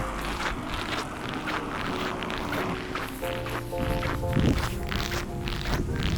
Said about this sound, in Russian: Немножечко ветерок дует, но не ощущается, что прям холодно.